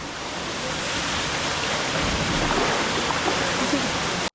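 A waterfall pours in a steady, dense wash of rushing water, close and constant, cutting off abruptly at the end.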